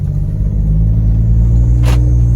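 A steady, low engine rumble from a 2011 Jeep Wrangler Unlimited Sahara's 3.8-liter V6 idles close by, with a brief hiss near the end; no one speaks.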